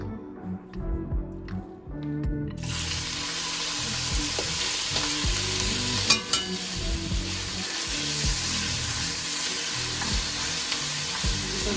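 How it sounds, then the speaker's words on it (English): Food fries in a pan for zuppa toscana until crispy, with a few stirring knocks, then a loud, steady sizzle that holds close up to the end. "Cook this until we get nice and crispy."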